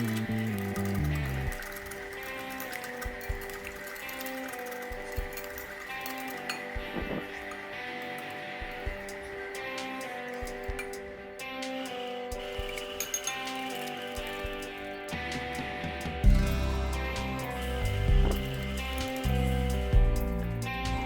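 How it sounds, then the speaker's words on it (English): Neutral-flavoured oil is worked into a mixture in small additions, giving soft, irregular clinks and ticks of a utensil against a bowl over a faint background hum, close and quiet, with no speech. "I shall add and mix till I get a uniform mixture."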